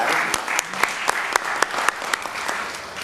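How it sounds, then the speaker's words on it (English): Audience applause at a city council meeting: a steady bed of clapping from a modest crowd with sharp, distinct individual claps standing out at a regular beat, sustained evenly for the whole stretch. "Let's give him a round of applause."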